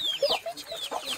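Farmyard chickens cluck close by in a rural countryside home, several quick overlapping calls in a brief burst with no voices.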